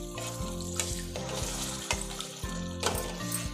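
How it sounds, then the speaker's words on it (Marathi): Half a bowl of water is poured into masala frying in a pan for a spring-onion egg bhurji, a steady watery hiss running throughout beneath loud, continuous background music. "मी थोडंसं 1 अर्धी वाटी पाणी घालते याच्यामध्ये"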